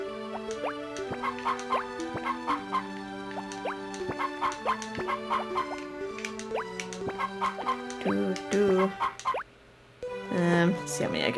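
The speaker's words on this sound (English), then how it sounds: "Alright, chickens." Chickens cluck in the Harvest Moon: More Friends of Mineral Town farming game, with short repeated clucks over bright, plinking game music and speech.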